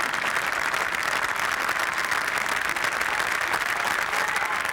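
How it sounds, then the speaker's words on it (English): Golf gallery applause at the Masters Tournament during the 1996 final round, a continuous, even wash of clapping from a large outdoor crowd, steady and moderately loud from start to finish. "Beautiful applause."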